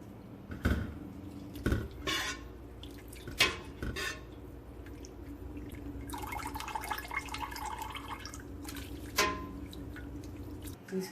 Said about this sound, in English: So we are just at this point rinsing the curds.